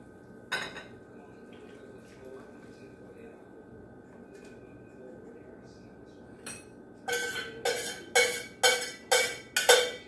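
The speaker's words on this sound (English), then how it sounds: "now we're gonna put it in the bowl" Pumpkin soup with caramelized onions ladled from a pot into a bowl, a quick clink early on, then a burst of six rhythmic scraping clinks of ladle against pot toward the end, close and fairly loud.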